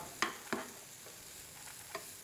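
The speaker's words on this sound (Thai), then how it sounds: "เราผัดผักต่างๆของเราให้สุกดีนะครับ" Onion, mushrooms and bell pepper stir-fried in bacon fat in a pan, with a few soft spatula scrapes over a faint, steady sizzle, quiet and close.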